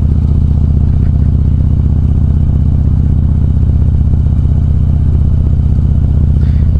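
A Harley-Davidson motorcycle being ridden, its engine pounding in a loud, close, steady low throb with a fast even pulse and wind rush, unchanging throughout with no talking.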